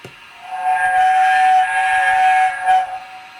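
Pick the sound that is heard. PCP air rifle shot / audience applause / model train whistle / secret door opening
model train whistle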